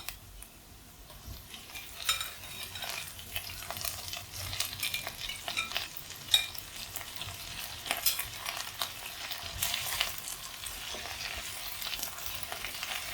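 Cauliflower tossed into a pan of half-cooked frying potatoes, a continuous close sizzle with stirring scrapes and soft clatters from a spatula throughout, no voices.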